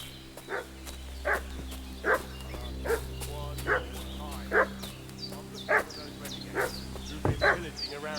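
A dog in Kingdom Come Deliverance 2 barks over and over at a steady, insistent pace, about a dozen sharp barks of moderate loudness, with a low background drone and a voice talking.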